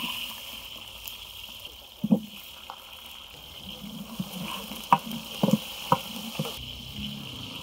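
Onions frying in a pan give a low steady sizzle with a few sharp clicks and scrapes, heard near and moderately quiet with no talking.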